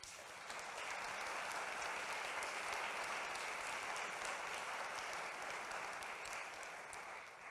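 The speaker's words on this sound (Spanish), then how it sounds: "para quienes pido un fuerte aplauso." Sustained applause from an audience at a public commemorative panel event, steady and dense throughout, heard at moderate distance with no talking over it.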